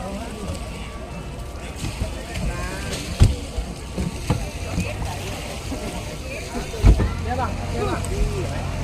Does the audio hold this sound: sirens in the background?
no